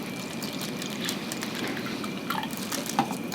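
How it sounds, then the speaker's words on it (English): Vinegar is poured into a plastic baggie in a steady, soft liquid trickle, with a few faint drips and crinkles near the end and no talking. "We're going to pour some vinegar into a second baggie."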